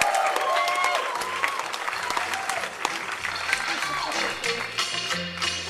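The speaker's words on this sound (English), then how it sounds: "Give him a round of applause as he makes his way down." An audience applauds a volunteer at a live comedy dating-game skit, a dense, steady clapping that keeps going for several seconds, with a little crowd noise mixed in.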